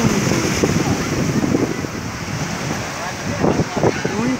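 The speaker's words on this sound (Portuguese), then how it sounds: "Mar lindo." Sea waves rolling in at Rio das Ostras beach in Brazil, a steady broadband surf wash with wind buffeting the microphone and a few louder swells breaking close by.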